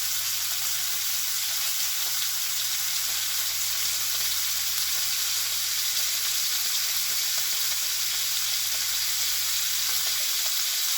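Braciole searing in a hot pan to build a brown crust, a constant dense sizzle and hiss holding at an even level throughout, with no talking.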